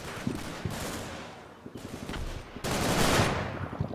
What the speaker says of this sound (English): I don't know if I have some other mortar firing right now